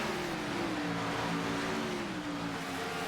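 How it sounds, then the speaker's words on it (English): Race cars rev and roar around the Dover oval in a sim racing game, a steady layered engine drone with shifting pitch as several machines battle close together, with no talk over it. "Watching all these other machines battle on the racetrack as well."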